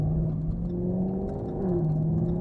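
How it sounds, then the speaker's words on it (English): Engine and exhaust of a Jaguar F-Type R convertible with all-wheel drive, a steady close rumble holding a low drone that climbs slightly in pitch, continuous throughout with no talking. "One thing they didn't change is that absolutely crazy engine and exhaust note."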